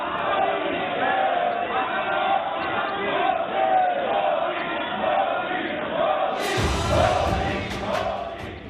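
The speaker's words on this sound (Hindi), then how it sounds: "आज करीब 1 मिनट तक संसद में ताली और मोदी मोदी के नारे सुनाई दिए।" Members of India's parliament clapping and chanting "Modi, Modi" in the Lok Sabha, a rhythmic crowd chant with clapping that keeps going, then a burst of louder, fuller sound near the end.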